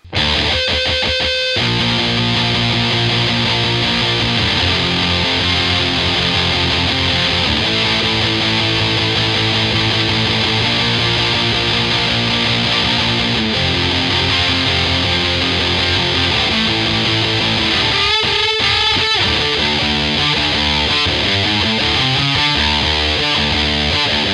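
Loud, continuous overdriven electric guitar playing chunky rhythmic chords, with a brief pause and a busier passage near the end.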